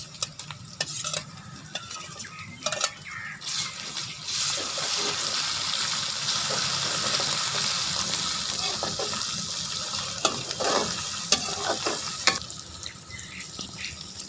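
Onions and ginger-garlic paste sizzle steadily in a hot pan for pulao, with occasional stirring scrapes and clinks over a constant frying hiss.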